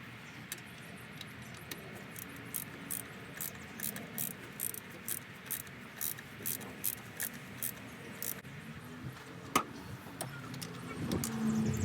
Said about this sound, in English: I'm going to take out these 4 bolts that hold down the carburetor.